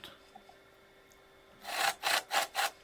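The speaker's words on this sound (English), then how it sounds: "I'm now softening the top edges of the vent holes using a countersink bit." A hand drill with a countersink bit softening the edges of vent holes in wood: four short rasping grinding strokes in quick succession after a quiet start, close and fairly loud.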